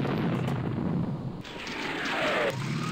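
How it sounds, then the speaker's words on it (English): An airstrike explosion in the wargame Campaign Series Middle East, a loud sustained roaring blast that rumbles on and swells again with a second wave of debris noise, filling the whole moment without speech. "Boom, and that was actually an airstrike."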